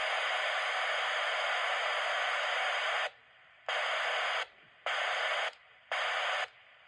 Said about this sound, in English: transmits a carrier wave which silences the background static on the walkie-talkie